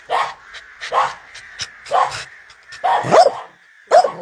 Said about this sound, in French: On est derrière le grillage, elle aboie comme ça